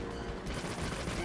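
Rapid gunfire in the video game Deadly Premonition, a dense continuous burst of shots filling the short moment, loud and close.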